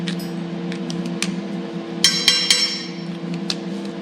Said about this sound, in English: Taking a pair of pliers and just turning just like this.